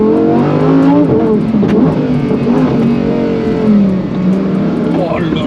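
Lamborghini Huracan STO race car engine revving hard on a track, loud rising and falling engine tones with gear shifts, heard close from inside, with someone talking over it.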